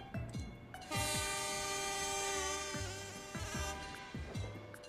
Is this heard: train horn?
yes